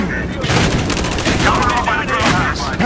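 Shotgun fire in the video game Battlefield Hardline comes as a rapid series of loud, booming blasts that run together in a dense, continuous volley.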